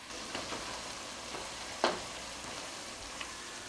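Hamburger meat and onions browning in a pan for cowboy soup, a soft continuous sizzle with a few light clicks and one sharper tap partway through, no voices.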